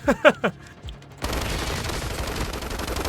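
Machine gun fire in the video game Call of Duty Mobile; after a few short sounds, a dense, continuous burst of rapid automatic fire sets in and carries to the end.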